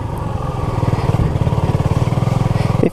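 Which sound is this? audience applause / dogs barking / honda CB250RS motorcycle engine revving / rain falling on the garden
honda CB250RS motorcycle engine revving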